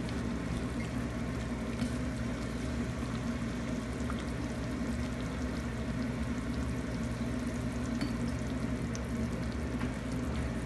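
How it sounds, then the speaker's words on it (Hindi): Water poured into a pot of meat being cooked down to tenderise, a steady liquid pouring and bubbling wash filling the whole stretch at moderate, even loudness with no talk. "तो 2 कप पानी डलेगा ये वाले कप से"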